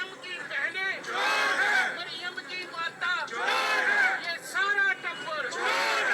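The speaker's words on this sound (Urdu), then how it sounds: "نعرے بازی اس وقت آپ سن رہے ہیں" PTI supporters chant slogans in rhythmic bursts during a street protest in Pakistan, a loud crowd of voices rising and falling together with short gaps between shouted phrases.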